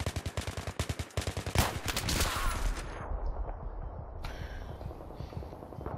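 Rapid bursts of gunfire in the Battlefield game, on the Death Valley map during a team deathmatch. A quick run of sharp, evenly spaced shots is followed by a louder blast and rumbling, then high tones and scattered noise.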